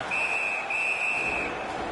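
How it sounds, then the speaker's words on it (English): A referee's whistle in the NHL 19 hockey video game gives a single high, steady blast of about a second and a half over faint arena crowd murmur. "Puck covered, whistle blown."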